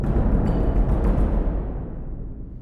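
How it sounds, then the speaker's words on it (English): A bass drum roll sample from the MNTRA Oracle orchestral library rumbles low and dense at close range, then gradually decays into a soft, fading tail. "like a bass drum roll maybe"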